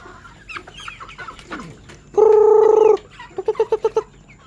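Three-month-old Dominant CZ chickens raised free range cluck loudly in a sustained burst, then in a quick run of five or six short, rhythmic clucks, heard close with no talking.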